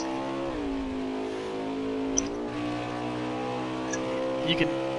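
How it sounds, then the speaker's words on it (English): Harmonic race truck engine whine in a video game onboard view, its pitch dropping and climbing as gears shift to keep revs low, with a faint voice and small clicks over it. "you can really hear him manipulating the gears right now, trying to keep it in low revs"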